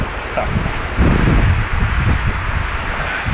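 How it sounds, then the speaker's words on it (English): A strong gale roars across an exposed ridge, a loud continuous rumble of wind buffeting the microphone with gusts swelling and easing, and no voices. "It's an absolute gale. I barely stand up on the ridge out here, it's that bad."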